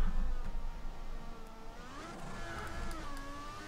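A Formula 1 racing car engine screams at high revs on a fast qualifying lap at the Hungarian Grand Prix in F1 2014, its pitch rising and shifting steadily with no talk over it.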